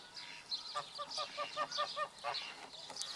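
Young Rouen ducks calling in a poultry yard, a quick series of soft, nasal honking quacks close by, some overlapping, with a faint voice in the background.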